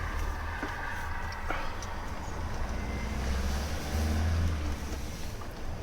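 Steady vehicle rumble and traffic noise as motorcycles and small vehicles pull out at a Gold Wing WingDing rally, a continuous low drone with faint passing engine tones, no talking.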